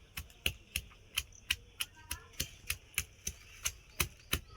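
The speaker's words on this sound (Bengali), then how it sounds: "পটলটাকে বাটনা করছি দেখুন" Pointed gourd is ground into a paste on a stone, making sharp, evenly spaced knocks and scrapes, about three per second, close and fairly quiet.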